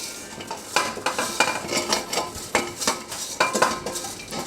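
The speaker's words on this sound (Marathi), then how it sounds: "आपण गॅस बंद करूया आणि ह्याच्यामध्ये ही जी शेव आहे ती मिक्स करूया आपण." Crisp sev gets stirred into sugar syrup for shev ladoo, with rhythmic scraping and clinking of a spoon against a metal pan, close and fairly lively, with no talk.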